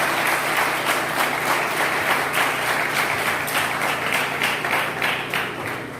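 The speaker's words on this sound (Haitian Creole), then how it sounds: "Applaudissez, applaudissez," Audience applause at a ceremony in Camp-Perrin, heard as steady, dense clapping from a crowd that carries on evenly and tapers slightly at the end.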